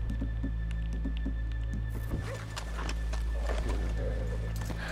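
Horses' hooves clip-clop at a regular walking pace on a street in the video game Red Dead Redemption 2, with a short whinny and a low mechanical hum underneath.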